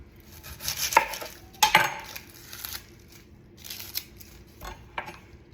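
A knife slicing through a red onion on a cutting board, a few close crisp cuts and crackles spaced unevenly, then fainter rustling as the pieces are handled.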